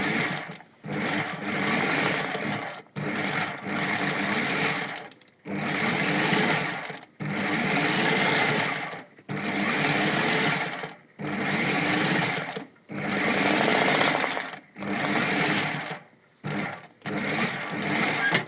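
A sewing machine stitches in repeated loud bursts of a second or two, each run of rapid mechanical whirring broken by short pauses, close up and with no talking over it.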